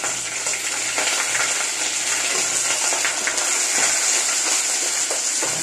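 Onion sautéing in oil with shrimp, a dense steady frying hiss with faint stirring scrapes, close and fairly loud throughout, with no voices.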